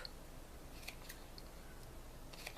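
Scissors snip through a foam flower about 12 cm across, made for an Easter foam basket craft; a few faint, crisp cuts sound close by over a quiet background hiss.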